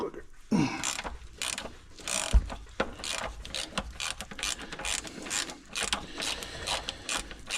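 Metal crank being worked loose from a Minneapolis Moline ZA tractor engine, with irregular clanks, ratcheting clicks and scraping at close range and one sharp knock partway through, continuing throughout.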